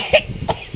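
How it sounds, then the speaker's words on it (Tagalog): A baby coughs twice at night indoors, two short sharp coughs spaced about a third of a second apart, close and fairly loud with nothing else around them. "Ubo siya eh."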